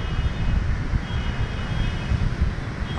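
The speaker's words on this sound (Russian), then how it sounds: "Там аэропорт, вон самолет заходит на посадку." An airplane on approach to land at the airport in Da Nang, Vietnam, a steady loud engine roar with wind buffeting, heard continuously from a rooftop nearby.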